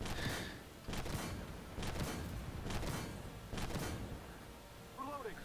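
Four evenly spaced gunshots from a video game pistol with a twelve-round magazine ring out, each a sharp, mid-loud crack about a second apart over a constant background hum, with a short vocal sound near the end.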